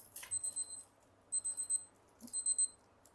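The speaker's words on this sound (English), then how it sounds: "Yeah, my timer has run," A timer alarm beeps in three bursts of rapid high electronic beeps separated by short pauses, clear and close in a quiet room with no talking.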